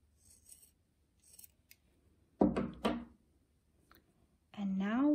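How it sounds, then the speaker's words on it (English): Sharp scissors snip through the looped yarn at the bottom of a handmade tassel in two quick, close cuts inside a quiet room, and a voice starts talking just afterward. "I'm going to go ahead and cut the loops down here at the bottom."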